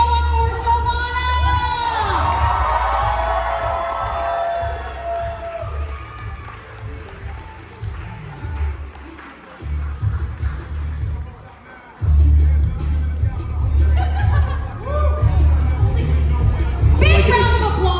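Crowd at a cosplay contest at an anime convention cheers and shouts for a contestant, dense sustained roar with high excited voices, a brief dip near the middle before surging loud again under booming background music.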